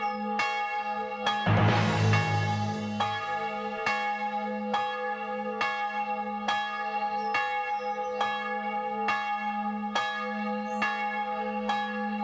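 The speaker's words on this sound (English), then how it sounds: "sounds like we have some church bells on the offbeat" Church bells ring on the offbeat in a music production drum stem, a steady bright metallic strike roughly every second over a sustained low tone, with a louder burst near the start.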